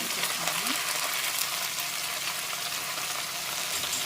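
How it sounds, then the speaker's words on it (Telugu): Cut brinjal pieces with onions frying in a pan give a steady, dense sizzle throughout, loud and close, with faint stirring. "ఇప్పుడు బాగా ఫ్రై అవుతున్నాయి"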